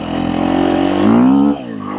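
Sherco SEF 450 off-road motorcycle engine while riding in a field, a close, loud droning note that climbs in pitch as it revs up, then drops off sharply at the end.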